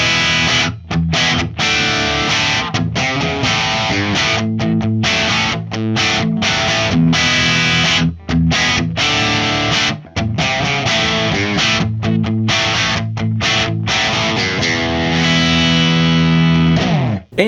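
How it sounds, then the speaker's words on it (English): Crunchy, overdriven electric guitar through a Bogner Uber Ultra EL34 tube amp in crunch mode, playing a steady riff of chords with brief gaps, loud and close, with a warm amp-driven grit. "A crunch mode, so you can get those classic rock dad tones."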